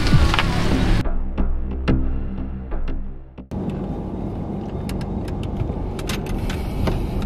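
A car is driven with a loud steady engine and road roar, briefly dropping and quieting before surging back, with scattered clicks and rattles from inside the cabin.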